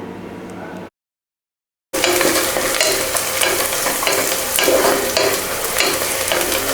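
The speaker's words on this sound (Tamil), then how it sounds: "இதெல்லாம் சேர்ந்து நல்லா வதக்கி விடலாங்க." Onions and green chillies sauté in a pot for one-pot tomato rice, a loud close sizzle and frying hiss with stirring scrapes after a brief silent gap.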